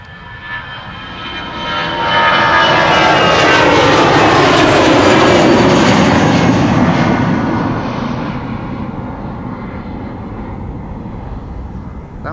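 An EasyJet airliner departs Amsterdam Schiphol, its jet roar swelling loud over about two seconds, holding a broad sustained rumble with shifting whine, then slowly easing as the aircraft climbs away, with no voices.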